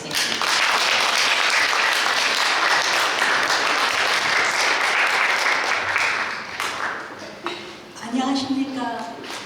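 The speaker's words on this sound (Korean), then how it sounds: "박수로 환영해주세요" A dense wash of audience applause fills a hall at a speech contest for deafblind people, steady and full for several seconds before thinning out as a voice begins speaking.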